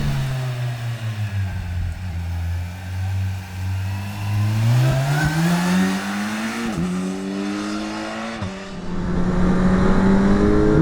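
A 2026 Kawasaki Z1100 motorcycle accelerates hard on a cold road, its engine note climbing through several gears with short dips at each shift, loud and close throughout.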